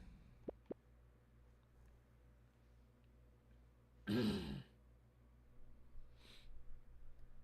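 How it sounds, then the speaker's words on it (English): A man clears his throat once, loud and close, in a quiet room, followed by a fainter second throat sound and low breathing; no speech. "I do apologize for the immense amount of coughing"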